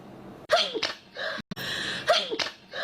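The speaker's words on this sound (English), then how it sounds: "Bless you." A person sneezes twice on a livestream, each sneeze a sharp, close burst with a gasping lead-in, the two about one and a half seconds apart and loud against a quiet room.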